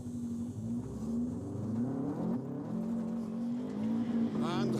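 A rally car revving hard as it drives through a bog, a loud, sustained engine note that climbs and wavers near the microphone, ending with a brief higher whine.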